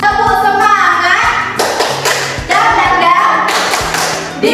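A swimming class claps the 'tepuk semangat' chant rhythm, with bursts of loud group hand claps and taps in patterned groups, broken by short pauses and faint voices.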